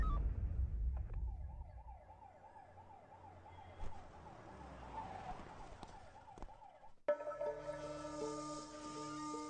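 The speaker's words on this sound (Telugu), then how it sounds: "అంబులెన్స్ రప్పించండి." An ambulance siren wails in a steady, rapidly repeating up-and-down pattern at moderate distance for several seconds, then cuts off abruptly as a different, brighter tone begins, with faint rumble underneath.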